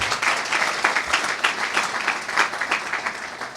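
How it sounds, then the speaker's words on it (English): Audience applause fills the hall at a CFA charter award ceremony: sustained, even clapping from a large crowd, close and continuous for the whole stretch. "Let's give them a round of applause."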